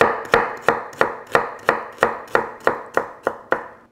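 A knife chops Korean radish into slivers on a cutting board, eleven crisp, evenly spaced strikes at a brisk steady pace, close and clear with nothing else heard.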